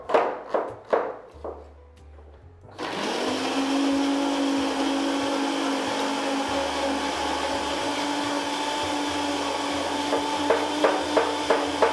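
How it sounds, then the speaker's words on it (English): A kitchen blender purees vegetables for Ghanaian jollof rice: a few knocks come first, then the motor starts up and runs as a steady, loud whirring drone for the rest of the time, with faint clatter underneath. "So let me head over to the blender and throw this into the blender for you."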